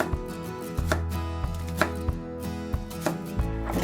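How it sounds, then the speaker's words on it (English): A knife chopping an onion on a cutting board, a run of close, sharp thuds at a fairly regular pace with no talking. "this is how I like to cut an onion"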